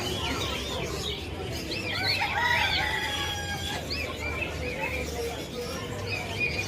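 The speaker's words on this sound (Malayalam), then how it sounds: "ഒരുപാട് ഐറ്റംസ് കോഴികളാണ്" Chickens and roosters at a festival poultry display cluck steadily and crow in rising calls, with a dense crowd murmur and other birds chirping behind them throughout.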